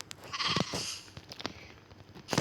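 Sheep in Minecraft PE give a few short, wavering bleats, near and moderately loud, with a final bleat after a pause and no talking.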